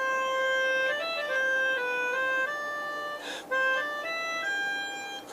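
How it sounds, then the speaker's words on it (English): Melodica playing a French-sounding tune with a regional feel, a bright reedy melody of sustained stepping notes, moderately quiet and alone. "It's called a melodica."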